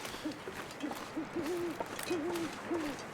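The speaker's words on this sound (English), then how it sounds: "That owl sounds very close." An owl in the video game The Long Dark gives a series of low hoots, about six soft calls at uneven intervals, fairly close over a quiet wind-like background.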